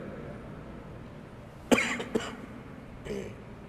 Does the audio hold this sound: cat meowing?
no